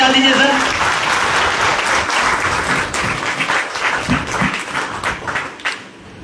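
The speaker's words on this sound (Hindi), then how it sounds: "एक बार इन सभी के लिए सब शानदार जबरदस्त वाली ताली बजा दीजिए सर।" Audience at a talk or motivational seminar clapping loudly in a dense, sustained burst that thins into scattered claps toward the end.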